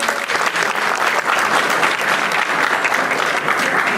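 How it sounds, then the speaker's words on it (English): Audience applause fills the room, a steady, dense roar of many hands clapping at full strength with no break, close and loud throughout. "Let's give him another round of applause."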